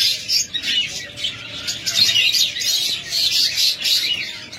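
A pair of rainbow budgerigars in a bird shop chirping and twittering busily, bright overlapping calls close by with soft background noise.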